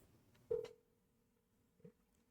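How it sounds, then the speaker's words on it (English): A plain classic telephone ringtone from a Nancy Drew computer game sounds once as a short electronic tone with a steady pitch, fairly faint. A second, softer blip follows a moment later. "that's just a boring, classic ringtone"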